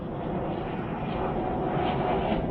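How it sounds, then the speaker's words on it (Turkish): Firefighting airplane flying over a burning mountain forest, a steady broad engine roar that holds at a constant moderate level throughout, with no talk over it. "Gördüğünüz gibi yangın söndürme uçağı geldi."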